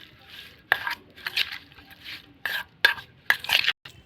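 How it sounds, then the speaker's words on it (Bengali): Fish is hand-mixed with chili powder, cumin powder and mustard oil, producing wet squelching and slapping bursts in an irregular rhythm, close and fairly loud, no speech. "একটু লঙ্কার গুঁড়ো দিয়ে দেবো, একটু জিরে গুঁড়ো দিয়ে দেবো, একটু সর্ষের তেল দিয়ে দেবো। এটা একটু মেখে নেবো।"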